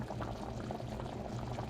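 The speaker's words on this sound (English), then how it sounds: "Then you add your rice. And I'm just gonna let this boil" Water boils with rice in a cooking pot, a dense continuous bubbling and rumbling simmer that stays loud and close throughout, with no voices.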